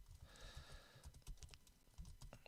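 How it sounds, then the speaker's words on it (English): Quiet, close typing on a computer keyboard, a quick irregular patter of soft key clicks. "My typing is terrible."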